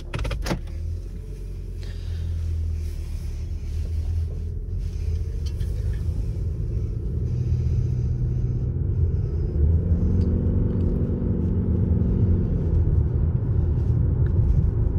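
A 2021 Toyota RAV4 Hybrid Prime heard from the cabin on a short drive, a continuous low road rumble and motor hum that shifts in tone midway, with no talking.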